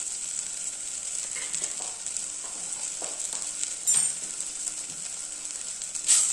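Green chillies and masala powder sizzling in a pan for an egg curry, a steady quiet frying hiss with occasional soft scrapes of stirring.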